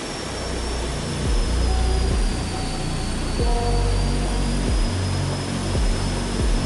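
Air India jet aircraft engines during a go-around, a broad continuous roar with rhythmic low pulsing surges, loud and sustained with no voices.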